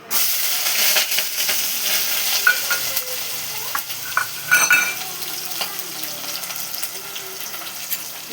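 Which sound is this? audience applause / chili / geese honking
chili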